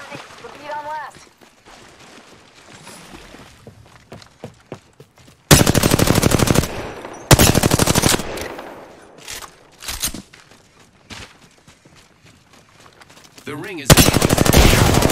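Video-game gunfire from hostiles comes in several loud sustained automatic bursts, each lasting a second or two, separated by quieter stretches where someone talks over lighter scattered shots.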